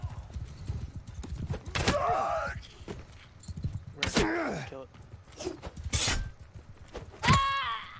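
Horse hooves of a horse archer in Mount & Blade II: Bannerlord, several bursts of clip-clop with whinnies and game effects scattered across the clip, moderately loud and close.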